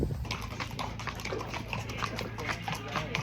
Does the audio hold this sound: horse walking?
yes